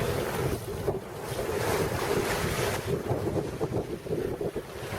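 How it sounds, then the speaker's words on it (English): Steady, loud wind roars over a boat at sea near Bohol as it heads almost straight into the breeze, with continuous buffeting on the microphone and waves washing underneath. "The wind, of course, is still blowing from almost straight ahead of us."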